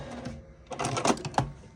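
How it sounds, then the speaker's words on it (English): Juki sewing machine stitching a thick fabric seam, a short burst of rapid mechanical clatter after a brief quiet lead-in, close and moderate in level. "This Juki sews through anything. So, and I'm just going to sew that up."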